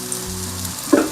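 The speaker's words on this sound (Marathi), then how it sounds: "तर 2 मिनिट आपण या बाजूने भाजून घेऊया. तर आता आपण पलटी करूया." A crispy breakfast item sizzles and fries steadily in a hot pan, then gets flipped over with a brief louder clatter and burst of sizzle near the end.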